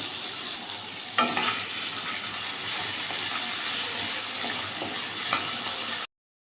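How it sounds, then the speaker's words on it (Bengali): Potatoes fry in hot mustard oil in a kadai, a steady close sizzle with a few stirring scrapes and clinks, no voices. "তেলটা গরম হয়ে গেছে আলুটা ভেজে নেব"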